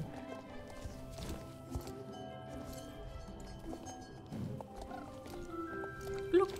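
Horse hooves clip-clop at a moderate distance over a busy Star Stable Online game soundscape with music-like tones, and a brief whinny near the end.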